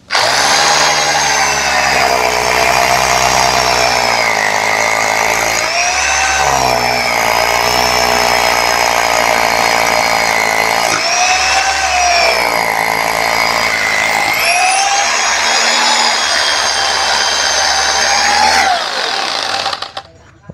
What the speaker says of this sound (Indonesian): Nah, ke mode maju kita lakukan pengeboran lagi ya.